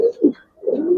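Giribaz pigeons cooing in a loft, two or three soft, close, throaty coos with a brief pause between them, no other sounds around.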